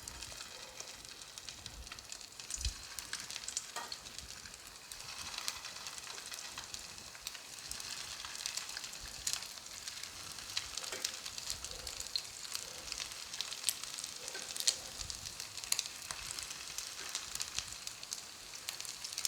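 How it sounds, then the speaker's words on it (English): Meatballs fry in hot vegetable oil in a medium skillet over high heat, producing a dense, continuous crackling sizzle with sharp pops throughout, close and fairly loud, with no talk. "I'm going to add my meatball now."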